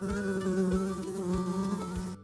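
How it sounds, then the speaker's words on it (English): Honey bees circle at the entrance of a three-way nucleus hive, producing a steady, close, droning buzz with a low pitched hum that wavers slightly as insects pass near, with no voices. "Bees trying to return, confused, circling, looking for their way back home"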